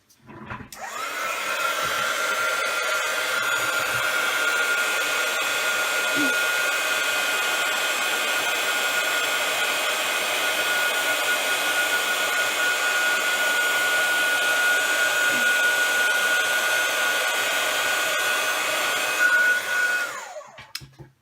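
A heat gun starts up and blows a steady, loud whooshing hiss with a faint whine for about twenty seconds before cutting off, used on embossing powder for a scrapbooking origami fir tree, with no talking.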